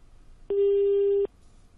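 A single steady electronic busy tone rings out for under a second, sharp and clear against a quiet line hiss, then cuts off abruptly.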